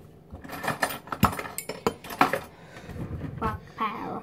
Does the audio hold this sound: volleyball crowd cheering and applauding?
no